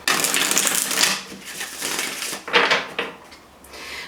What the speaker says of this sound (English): Let me just give a quick shuffle here.